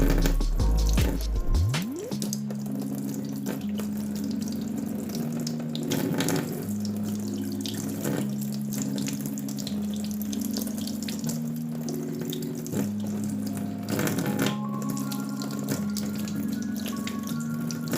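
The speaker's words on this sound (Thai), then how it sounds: "เดี๋ยวผมเปิดก๊อกน้ำน้ำไหลผ่านเลยนะครับ" Water runs steadily from a tap for a long stretch, loud and close, with a droning hum and occasional clatter beneath the flow.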